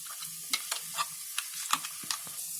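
Chili paste fries with ginger in a pan for Schezwan chutney, a soft continuous sizzle broken by close scraping stirs and spoon knocks at an irregular pace, with no voices.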